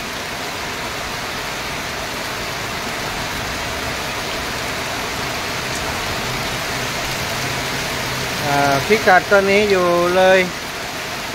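Heavy rain falls as a dense, constant hiss on a rural road near Nam Nao, steady throughout, with someone speaking over it near the end.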